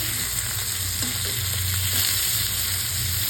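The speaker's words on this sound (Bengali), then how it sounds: "মাছ ভাজি হয়ে গেছে" Fish fries in a pan with a continuous close crackling sizzle, faint stirring or scraping sounds mixed into the steady hiss.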